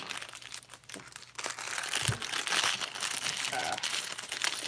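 A plastic LEGO parts bag is crumpled and crinkled close up in a run of crisp, irregular rustles and crackles that grow denser partway through, with no one speaking.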